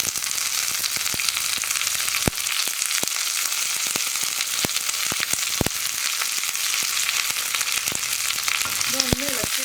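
Fenugreek, dried red chillies and curry leaves fry in a pan on low flame, a steady hissing sizzle with sharp crackles and pops throughout, alone with no talk.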